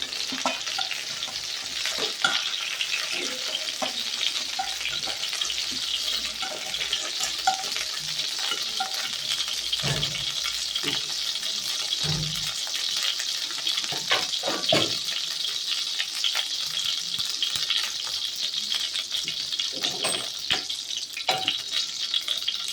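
Brinjal pieces frying in coconut oil, a steady bright sizzle running throughout while a utensil scoops and stirs, with a few soft low knocks and clinks against the pan.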